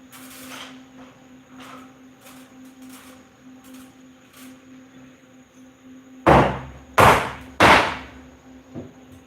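A hammer strikes a nailed wooden cross brace to knock it out during I-joist installation, three loud, close, heavy blows in quick succession after quieter shuffling and a faint steady hum.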